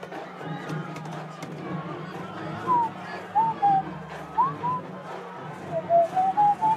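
Faint, wandering whistled notes come and go over a background of low murmuring voices and room noise.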